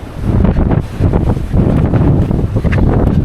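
Strong wind buffets the microphone in a constant loud, low rumble with gusting roughness throughout.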